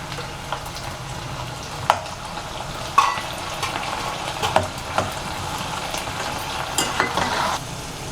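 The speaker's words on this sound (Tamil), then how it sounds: "இப்போ வெங்காயம் பூண்டெல்லாம் நல்லா வதங்கிடுச்சுங்க" Onion, garlic and tomato sauté in a pan with a soft steady sizzle, punctuated by intermittent scraping and clinking stir strokes, close and unaccompanied by voices.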